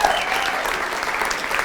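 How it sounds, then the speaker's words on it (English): A live audience claps in a brief, dense round of applause, many hands together at steady loudness for under two seconds, with no voices over it. "She deserves a round of applause."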